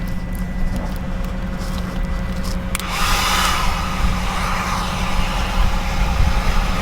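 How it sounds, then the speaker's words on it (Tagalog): A hair dryer roars steadily at close range while drying hair, its airflow growing louder and rougher as it is moved about. "i-blower ko na lang para matuyo na siya ang todo."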